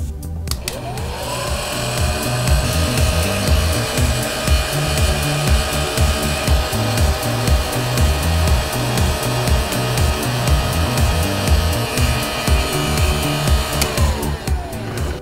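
Heat gun applied to a shrink sleeve on a shielded Cat6 RJ45 connector: a steady, loud whirring blow that starts about a second in, holds evenly, then cuts off at the end.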